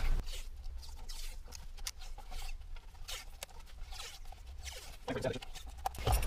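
Electrical tape is pulled off the roll in short, ripping, raspy strips to hold brackets in place, close and crackly, with a person speaking over parts of it.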